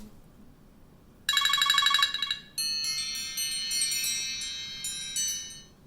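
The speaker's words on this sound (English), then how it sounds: "ringtone." A phone ringtone plays a bright repeated chime, then shifts into a melodic electronic tune, clear and close with no talking.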